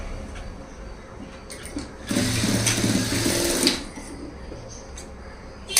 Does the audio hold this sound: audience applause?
no